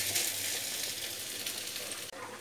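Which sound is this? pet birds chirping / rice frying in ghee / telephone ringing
rice frying in ghee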